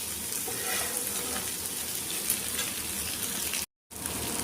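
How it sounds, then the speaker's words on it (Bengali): Chicken stirred in a pan over a low gas flame gives a steady, close sizzle with soft scraping stir sounds, broken by one brief gap of silence near the end. "চিকেনটা এর মধ্যে দিয়ে আমি অল্প নাড়াচাড়া করে নেব"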